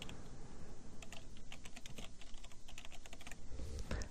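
Quick, quiet clicking of keys on a computer keyboard, a steady run of light taps lasting a few seconds with no voice.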